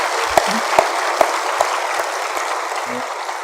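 A church congregation claps together in a steady, moderately loud burst, with a few sharper knocks and thumps breaking through near the start.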